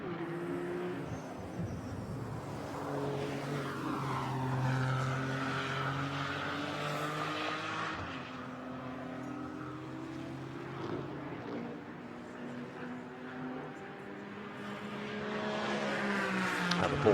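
A Porsche GT4 race car at speed around Spa circuit during free practice, its engine note rising and falling through gear changes over a sustained loud drone.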